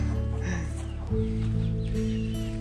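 A chicken clucks in a steady low, repeated rhythm close by, growing louder and fuller partway through, near a coucal kept with a Phu Quoc dog.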